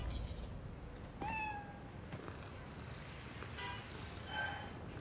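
A cat gives a couple of short meows in Spider-Man: Miles Morales, faint against a quiet city backdrop, with a brief chirp early and softer calls near the end.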